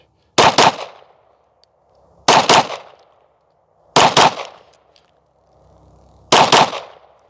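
A Glock pistol is fired in quick bursts at a range, four loud, sharp clusters of rapid shots, each group of a few cracks followed by a short decaying echo and silence between.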